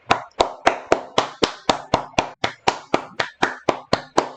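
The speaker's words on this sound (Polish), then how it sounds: "Nie wiem czemu klaszczę" A person claps their hands about fifteen times in a steady, even rhythm, each clap sharp and close, with no talking.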